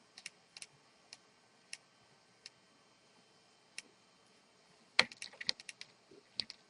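Sparse, quiet keystrokes on a computer keyboard, isolated taps early on followed by a quicker cluster of clicks near the end.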